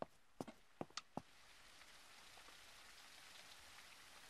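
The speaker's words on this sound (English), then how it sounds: "It's raining out." Steady rain falling in the low-poly zombie survival game Surroundead, a soft continuous patter heard alone, with a few sharp footstep-like knocks near the start before the even hiss carries on.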